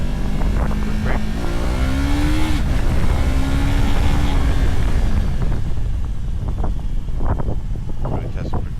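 A 2025 Yamaha R3 300cc motorcycle engine pulls steadily in second gear, its hum rising and dipping with throttle beneath constant wind rush, while a rider talks over it.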